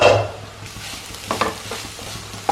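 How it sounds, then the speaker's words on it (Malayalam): Bitter gourd thoran for a Kerala-style meal being stirred in a hot pan, a soft continuous sizzle broken by a few scraping strokes of the spoon, close and fairly loud, no voices. "നമുക്ക് ഒന്നുകൂടെ ഇളക്കി കൊടുക്കാം."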